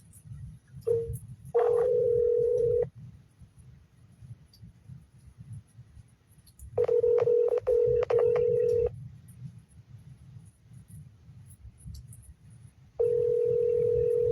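A phone call rings out unanswered, with three separate bursts of steady electronic ringback tone spaced apart by quiet stretches over faint background hiss.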